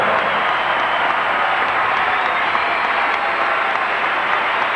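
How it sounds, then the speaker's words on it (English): A large arena crowd at the 1988 Calgary Winter Olympics figure skating pairs event applauds and cheers steadily for the United States bronze medalists, a dense, continuous wash of clapping and roaring throughout. "another huge cheer goes up for the bronze medalists from the United States"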